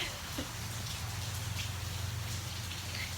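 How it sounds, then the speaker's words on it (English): Steady rain falls outside on a patio, a soft continuous hiss with faint scattered drips, quiet and even throughout. "As you can probably hear, it's raining."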